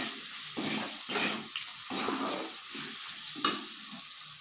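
Spices with salt stirred and fried in a pan for soya keema, a steady sizzle broken by repeated scraping strokes of a spoon, close and moderately loud with no talking.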